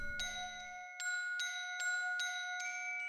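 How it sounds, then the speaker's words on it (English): Glockenspiel tuned to 430 Hz, struck in a bright sequence of about six ringing metallic notes, fairly faint, with a soft low pad fading out under the first notes. "That's a glockenspiel."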